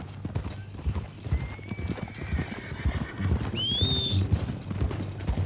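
Horse hooves clip-clopping at a steady walking rhythm in the video game Red Dead Redemption 2, close and continuous, with a brief whinny and faint ambient background.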